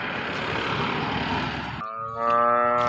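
A freshly calved cow with her newborn calf at a farm in Tharad, Banaskantha, Gujarat: after a stretch of rough broadband noise, a single loud, sustained moo begins and carries to the end of the clip.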